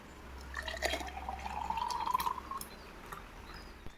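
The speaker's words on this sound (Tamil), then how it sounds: "இப்போ இதில் நம்ம அந்த மில்க் ஷேக்கை ஆட் பண்ணிக்கலாம்." Milkshake pours into a glass holding chocolate syrup, a faint close trickle with a rising liquid tone as the glass fills over a couple of seconds, followed by a few small drips and clinks.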